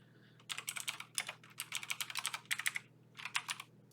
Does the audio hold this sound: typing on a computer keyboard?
yes